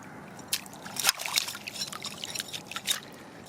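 Water sloshing and trickling as mud is rinsed off an old fishing lure found in a drained lake bed, close up, with irregular splashes and dribbles over a couple of seconds.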